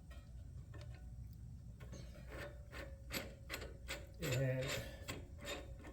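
Ratcheting, grinding mechanism as a tool is twisted counterclockwise on the rear brake of a 2012 Ford Focus, with irregular clicks and creaks close by, one brief word spoken.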